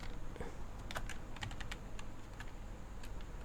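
Code being typed on a computer keyboard, quick irregular clicks of keys in short bursts, close and soft against a faint steady hum, no voices.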